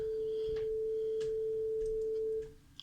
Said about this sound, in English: So we have an input frequency of, say, 440 hertz